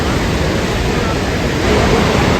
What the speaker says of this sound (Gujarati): આ સરસ્વતી નદી છે.